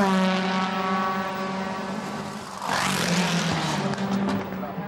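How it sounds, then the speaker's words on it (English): A DTM touring race car comes into the pit lane during a race at Valencia, its engine droning with a steady pitched tone. Halfway through it swells into a louder rush, heard beneath a commentator's voice. "Here's Paul de Resta for his second pit stop."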